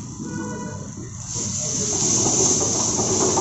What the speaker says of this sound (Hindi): हल्का सा पानी डाल दिया ताकि उसको मिक्स हो जाए